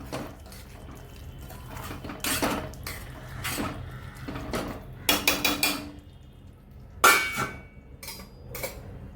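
A paneer vegetable curry in a pan being mixed after sugar is added, heard as irregular metallic clinks and scrapes of a spoon against the pan in separate bursts, with quieter gaps between them.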